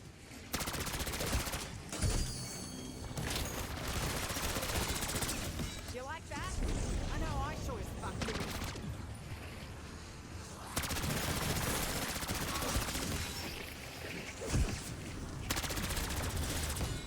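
Continuous gunfire from a primary weapon in Black Ops 6 Zombies, dense rapid bursts running almost without break, loud and close, with a voice talking over it.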